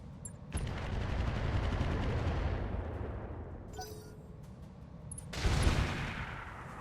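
Automated turrets firing in the mech combat game Roguetech, a BattleTech mod: a dense, sustained roar of gunfire and impacts lasting several seconds, fading slightly and then surging again near the end, with no talking.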